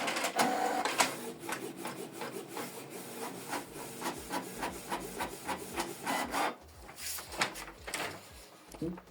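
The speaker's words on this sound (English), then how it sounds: "So it's going to print a test page." Close up, a Canon Pixma TS3752i inkjet printer whirs and clicks through a test page, its head sweeping in rhythmic passes, with a brief pause and paper-feed rumble near the end.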